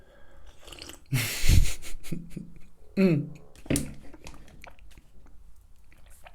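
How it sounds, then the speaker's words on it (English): Close, wet gulps of someone swallowing coffee: a few separate swallows with soft mouth sounds between them, and one brief spoken word. "hope you can't hear me swallowing."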